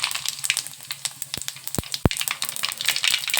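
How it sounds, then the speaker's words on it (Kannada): Cumin and mustard seeds crackle in hot oil as a tempering, with a steady close sizzle broken by a few sharp pops. "ಎಣ್ಣೆ ಕಾದೈತಿ ಅದಕ್ಕೆ ಒಂದು ಸ್ವಲ್ಪ ಜೀರಿಗೆ ಹಾಕೊತೀನಿ ಸ್ವಲ್ಪ ಸಾಸಿವೆ"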